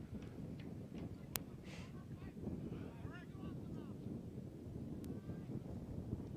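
Wind buffeting the microphone at an outdoor high school baseball game on a windy afternoon, a steady low roar with gusts, faint crowd voices and a couple of sharp knocks.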